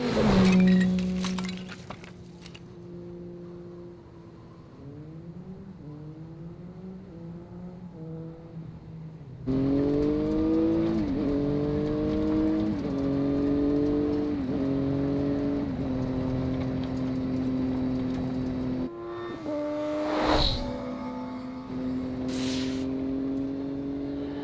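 A vehicle drives in the video game Enslaved: Odyssey to the West, its loud engine humming and rising and falling in pitch as it accelerates, with a metallic clink and a sharp crash partway through.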